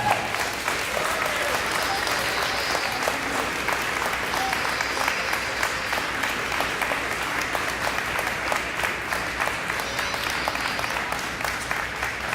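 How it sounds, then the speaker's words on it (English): Steady applause from a school audience congratulating students at a charter school event, dense even clapping sustained throughout at moderate loudness with no pauses. "Let's give them a round of applause."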